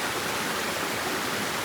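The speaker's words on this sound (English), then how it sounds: "just as the water washes over the rocks and the moss and the river" Steady, dense rushing of river water flowing over rocks and moss, a continuous broad wash of sound with no pauses or voices.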